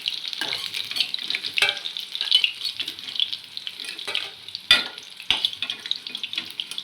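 Pieces fried deep red are stirred and lifted out of the oil, with a soft sizzle broken by sharp scraping clinks of a utensil against the pan.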